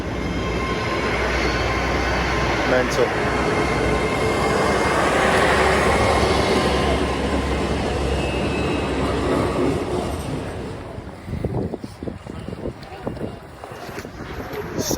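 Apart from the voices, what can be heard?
train passing through town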